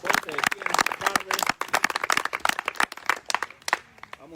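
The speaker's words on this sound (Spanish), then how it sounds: "Dale un aplauso a Dios" A church congregation claps in a burst of loud, uneven applause mixed with cheering voices, close and dense, fading toward the end.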